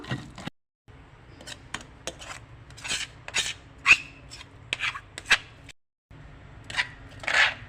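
Onions being pounded by hand for an onion pickle, a series of irregular sharp knocks and crunchy taps, close and fairly soft, with short silent gaps between bursts.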